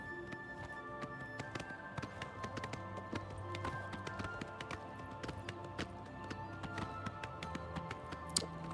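Horse hooves clip-clop steadily through a ride in the video game Oblivion Remastered, a continuous rhythmic patter under a constant game soundscape with droning music, running the whole way with a sharp accent near the end.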